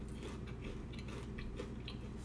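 A bite into a crunchy Guyanese fish cake gives a few faint, crisp crunches close by, over a steady low background hum.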